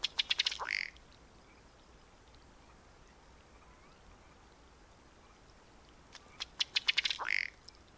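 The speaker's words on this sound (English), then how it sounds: "That's a unique quack." Ruddy duck calling with a distinctive quack, two short bursts of rapid clicking notes ending in a call, separated by several seconds of quiet outdoor background.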